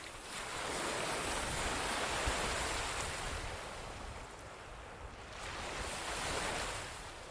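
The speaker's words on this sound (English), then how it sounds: "The soothing rhythmic sound of one wave followed by another and another." Steady ocean surf rolls and breaks onto the shore, a broad continuous wash that swells and eases gently, with light wind and no voices.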